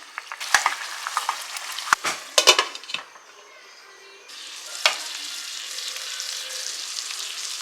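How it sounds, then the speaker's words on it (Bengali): Chicken pieces and saffron-soaked milk going into a hot pan, with clinks of a spoon and stirring first, then a steady sizzle and bubbling as the liquid hits the heat, close up with no talking. "এবার আবার আমি চিকেন পিসেসগুলো অ্যাড করে দিচ্ছি"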